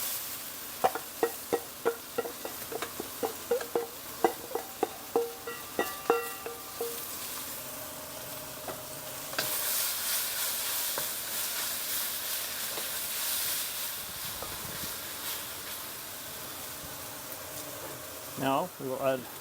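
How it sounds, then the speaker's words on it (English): Sliced pork and Chinese green chives stir-fried in a wok, with a run of rhythmic scraping tosses early on, then a sustained loud sizzle and hiss and a few clatters at the end, with a voice talking throughout. "Now that's almost cooked through, so we'll add back the chives and the other pork."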